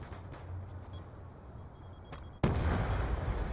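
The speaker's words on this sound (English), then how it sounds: "Explosions." A sudden heavy blast cuts in partway through, followed by a loud, sustained rumble of explosions over an already noisy backdrop in Call of Duty: Black Ops 2.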